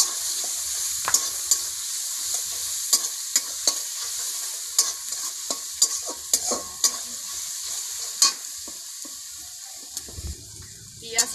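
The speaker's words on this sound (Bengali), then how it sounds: "একটু লবণ, একটু হলুদ দিয়ে ভালো করে পেঁয়াজটাকে একটু ভেজে নেব" Onions frying in a pan with salt and turmeric, a continuous bright sizzle broken by repeated sharp spatula scrapes and clinks against the pan, close and without talk.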